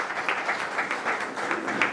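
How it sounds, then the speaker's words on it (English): An indoor audience applauds after a steel-industry presentation, a dense, steady wash of many hands clapping at moderate distance for the whole two seconds. "we must appreciate with a big round of applause"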